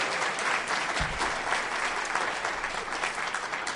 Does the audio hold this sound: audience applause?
yes